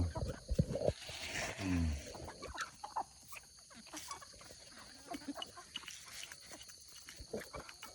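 Farmyard chickens, including bantams, clucking and squawking nearby in a rural garden, with scattered calls over a busy outdoor background and someone speaking over them.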